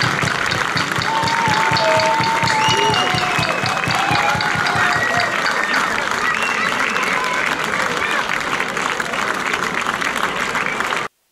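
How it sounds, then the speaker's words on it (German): Spectators at an amateur football match in Germany applaud after the final whistle, with a loud, steady wash of clapping from a crowd and scattered voices and shouts mixed in the whole way through. "hört euch einfach mal an, wie die Zuschauer hier in Wölf nach dem Spiel das alles nochmal feierten"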